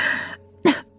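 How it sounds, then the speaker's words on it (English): One person coughs twice, close up, with a short harsh burst, a brief pause, then a second rougher cough. "She started coughing again."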